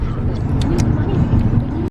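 Steady low engine and road rumble fills a moving car during a road trip, heard from inside the cabin, with faint voices murmuring over the drone.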